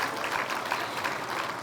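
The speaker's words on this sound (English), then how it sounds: "Go ahead and give them a round of applause" A round of applause fills the room at a regional chamber ATHENA Award event, with a crowd clapping densely and evenly through the brief moment.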